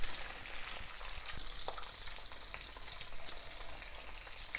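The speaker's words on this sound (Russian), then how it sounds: "Так как у меня вся рыба на сковородку не поместилась, поэтому сейчас все обжарим" Salmon steaks frying in a pan, a continuous crackling sizzle with scattered pops and spits, moderately close and steady throughout with no talking.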